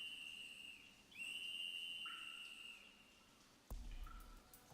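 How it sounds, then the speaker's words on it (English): A whistle trills out in the Made in Abyss video game: sustained high whistled tones with pitch slides and a faint thump near the end, set against quiet cave ambience and no speech. "After turning to the direction of the whistle's trill"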